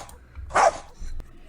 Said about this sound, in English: I'll wake up to my dog barking for no reason